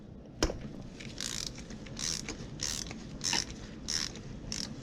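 A ratchet with a long extension working spark plugs loose on a Ford Mustang GT350, giving a series of rhythmic clicking bursts with a sharp crack near the start.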